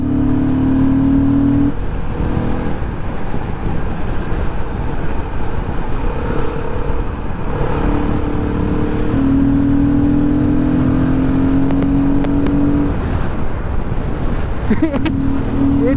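Royal Enfield Guerrilla 450 motorcycle accelerates hard through the gears, its engine note climbing and dropping with each shift over steady wind rush, close and loud.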